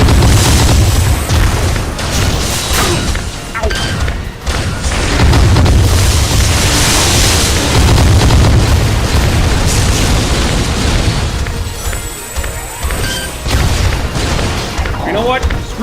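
Explosions and weapon fire from the Metroid Prime video game, heavy booming blasts in a dense, continuous barrage with layered bursts and rumbling low end, loud throughout with talk over it.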